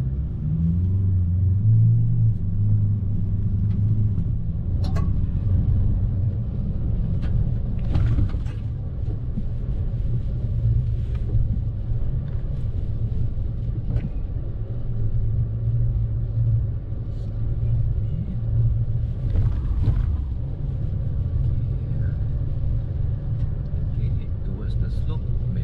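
A Ford Ranger Raptor with a 2.0L bi-turbo diesel launches from a start line, its deep, steady engine rumble loud and continuous throughout, with voices speaking over it.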